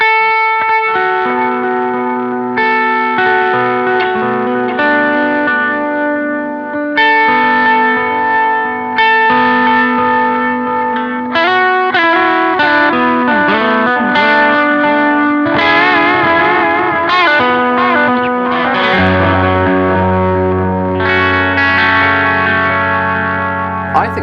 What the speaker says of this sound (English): that's a perfectly serviceable delay